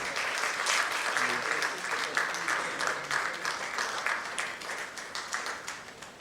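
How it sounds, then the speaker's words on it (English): Audience applause at a leadership summit panel: a dense, steady round of clapping from a crowd that holds strong for about six seconds, then thins slightly toward the end. "Can we have a louder round of applause, ladies and gentlemen?"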